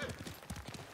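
Hoofbeats of a summoned horse in the video game Ghost of Tsushima, a steady clip-clop gait approaching close and fairly loud, with no talking.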